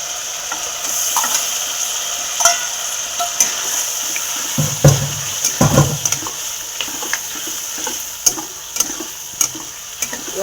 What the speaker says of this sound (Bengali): এবার আমি দিয়ে দেবো চিংড়ি মাছগুলো